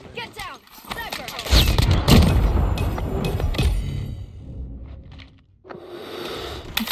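Sniper gunfire in the mobile shooter Call of Duty Mobile, with sharp bursts and thuds over a rumbling game soundscape, while a player's voice talks during the action.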